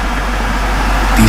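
A car engine runs in a steady, low rumble, close and loud, swelling slightly at the end, as a car is pulled out on a night drive in a Hindi horror story.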